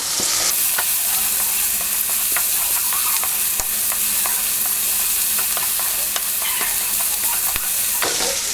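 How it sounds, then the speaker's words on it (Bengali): Chopped ginger is stirred into a sizzling pan of chicken curry base, a loud, constant frying hiss dotted with sharp spatula scrapes and clicks, with no talking. "এবার আমরা দেবো এর মধ্যে চপিং করা আদাগুলোকে। আবার একটু নেড়ে দেবো।"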